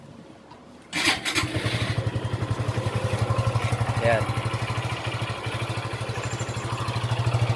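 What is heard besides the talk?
Suzuki Gixxer 155 motorcycle engine starting and idling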